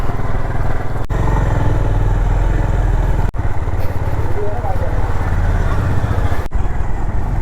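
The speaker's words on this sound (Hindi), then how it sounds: "ये लो जी, बाइक अपनी हो गई स्टार्ट।" A Honda CB350 RS motorcycle engine idles after starting, a loud steady low throbbing rumble that runs continuously with a couple of brief cutouts, close by with no talk.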